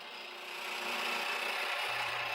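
A roughing gouge cuts a spinning wooden blank on a lathe for a small mallet, a steady broadband rasping hiss that swells in the first second and then holds evenly, with no voices.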